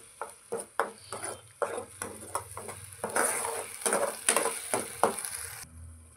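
Masala roasting in oil in a pan for bhindi masala, a steady sizzle broken by repeated sharp scrapes and taps of a spoon, close and moderately loud, with no talking.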